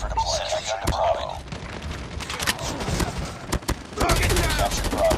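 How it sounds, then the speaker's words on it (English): A deployed sentry gun fires in Call of Duty Mobile, sharp bursts of rapid shots cracking out amid other battle noise, with a voice speaking over parts of it. "Sentry gun deployed."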